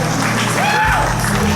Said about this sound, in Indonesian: Ya, terus berikan tepukan gemuruh.